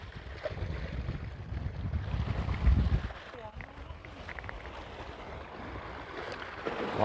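Wind gusts buffet the microphone at a coastal fishing spot, a low rumbling roar that peaks early and then eases, with water sounds faintly behind and a person talking over it.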